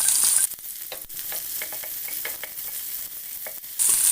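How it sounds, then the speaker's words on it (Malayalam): Small shallots frying in hot coconut oil in a pan for a curry, a loud continuous hiss and sizzle close by, with light stirring ticks through the middle and no voices. "പാനിൽ വെളിച്ചെണ്ണ ഒഴിച്ചിട്ടുണ്ട് ചൂടായിട്ടുണ്ട് നമുക്കതിലേക്ക് ചെറിയ ഉള്ളി"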